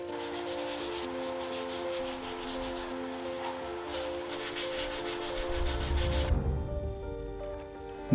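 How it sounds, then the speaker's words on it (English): Steady abrasive rubbing of sandpaper on carved wood, continuous and close, with a low hum running underneath and a heavier scrubbing pass near the end. "carve that, and then start sanding again."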